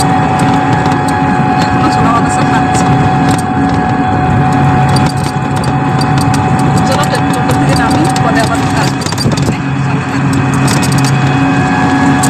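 Riding in a toto electric rickshaw along a village road on a hot day: a steady, loud rumble of road and motor noise mixed with rushing wind runs unbroken throughout, with a voice talking over it.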